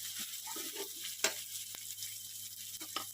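Garlic fries in a pan on its way to turning crispy, a steady soft sizzle and hiss with a few brief scraping stirs, close but fairly quiet, no talking.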